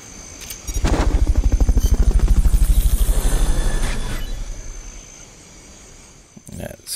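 Helicopter rotor in the video game Metal Gear Solid: Peace Walker, a loud rhythmic thudding that swells in, holds for a few seconds and then fades away, with voices talking over it.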